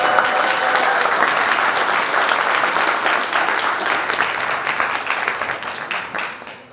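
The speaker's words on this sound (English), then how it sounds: "I don't know why you guys are clapping so hard" Comedy audience applauding hard, a dense, steady wash of many hands clapping close and loud for several seconds, slowly tapering off toward the end.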